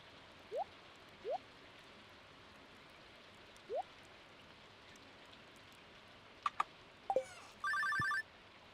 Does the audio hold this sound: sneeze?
no